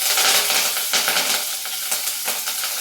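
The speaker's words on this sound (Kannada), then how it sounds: "ಬೆಳ್ಳುಳ್ಳಿ, ಶುಂಠಿ, ಹಸಿಮೆಣಸಿನ್ಕಾಯಿ ಇದೆಲ್ಲ ಹಾಕ್ತಾಯಿದ್ದೀನಿ" Garlic, ginger and green chillies fry in about four spoons of hot oil, a dense, close crackling sizzle with brief stirring scrapes over a few seconds.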